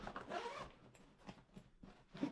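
Zip pulled on a tandem paragliding harness, several quick close zipping strokes in short bursts, quiet and nearby with no talking.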